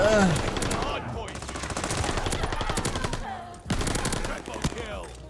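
Automatic gunfire from an MP40 submachine gun in the online shooter Call of Duty: Vanguard, loud rapid bursts filling the whole stretch with a brief pause near the middle, game effects layered around the shots.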